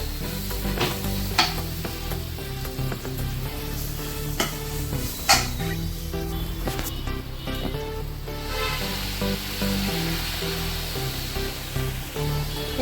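Sweet potato flour roasting in a pan for kheer, a steady loud dry sizzle and scrape with repeated stirring strokes throughout, close up and without talk.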